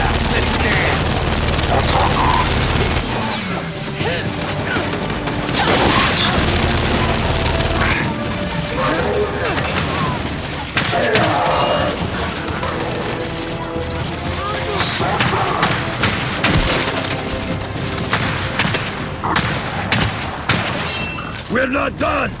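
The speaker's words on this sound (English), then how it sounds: "Incoming frag!" In the video game Gears 5, a frag grenade blast and bursts of rapid gunfire fill a loud, chaotic battle, with crashes and shattering mixed among shouted character dialogue.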